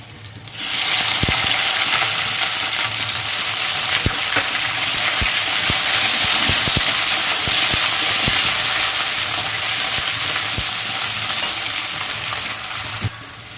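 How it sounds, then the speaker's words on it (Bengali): Chopped onions fry in a hot pan: a loud, close, continuous sizzle and crackle runs throughout, with occasional light clicks of stirring and no talk. "এখানে কেটে রাখা পেঁয়াজ দিয়ে দেবো।"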